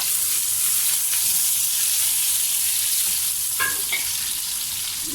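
Cabbage stir-frying with garlic in a hot pan, a loud continuous hiss-like sizzle with a few faint clicks of a utensil partway through.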